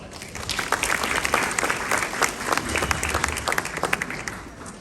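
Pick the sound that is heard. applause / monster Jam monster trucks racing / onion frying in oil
applause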